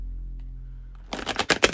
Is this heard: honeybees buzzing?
no